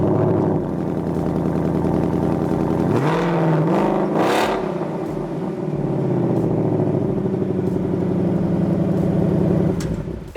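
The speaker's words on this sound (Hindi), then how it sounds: "ये इसका क्वाड एग्जॉस्ट सेटअप दिया गया है" A 2018 Ford Mustang GT convertible with a 5.0 V8 and quad exhaust revs loudly and close by, its deep idle burble swelling into two sharp throttle blips before settling back to a rumbling idle.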